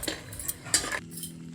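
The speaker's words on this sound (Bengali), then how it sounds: "ভাজা হয়ে গেছে, বাটিতে তুলে রাখছি।" Fried lentil dumplings lifted from hot oil into a bowl with a metal utensil, a few quick close clinks and scrapes of metal within about a second, then quiet.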